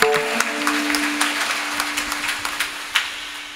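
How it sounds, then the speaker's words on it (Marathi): Audience clapping for Ram Maharaj at a Shravan month kirtan gathering in Sangamner, scattered individual claps over a steady wash of applause, moderately loud, with a sustained tone humming beneath. "राम महाराजांसाठी जोरात टाळी वाजवायला."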